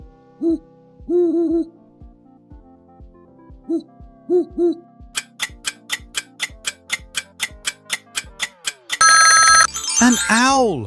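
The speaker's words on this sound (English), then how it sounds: "An owl!" An owl sound for a guessing quiz plays as soft, repeated hoots against a ticking, chiming musical backdrop. A rising ringing pattern follows the hoots.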